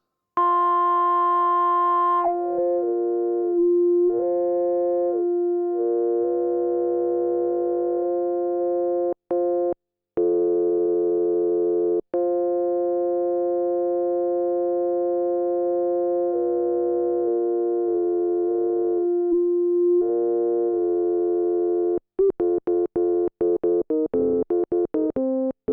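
Behringer MS-5 and Roland SH-5 analog synthesizers holding sustained, buzzy monophonic tones, shifting between pitches with a few gaps, ending in rapid choppy stuttering notes.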